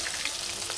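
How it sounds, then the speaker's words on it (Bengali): Chopped onions fry in hot oil in a pan, a dense, steady crackling sizzle heard close up with nothing else over it. "পেঁয়াজের কুচি দিয়ে দিচ্ছি।"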